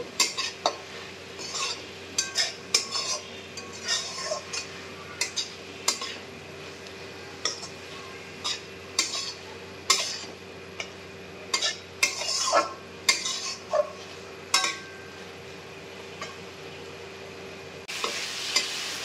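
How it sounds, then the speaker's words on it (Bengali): A spoon stirs tengra fish curry with coriander leaves in a frying pan. Repeated close scraping and clinking strokes come in an irregular rhythm over a soft background sizzle, with no talking. "ধনেপাতা দিয়ে একটু নেড়ে চেড়ে নেব"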